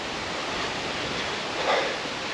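A Welsh waterfall roars as a dense, steady rush of falling water, loud and close, with a slight surge near the end and no voices.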